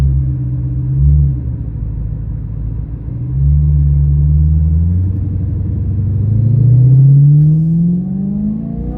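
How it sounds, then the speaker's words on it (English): Close in the cabin, a BMW E92 M3 with a Valvetronic exhaust burbles softly at low engine revs, a deep rumble that rises and falls in pitch through a few gentle surges, with no one speaking. "you got the little soft burble in the back"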